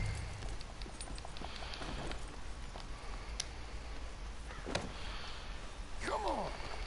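Horse hooves clip-clop faintly in Red Dead Redemption 2 as a horse is led up to a hitching post in a town, the steps sparse and soft beneath game ambience and voices.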